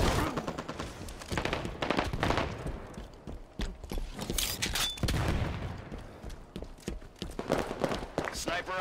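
Bursts of gunfire in the video game Halo 5, clustered volleys and sharp shots scattered among game clatter and footsteps, mixed with voice chat throughout.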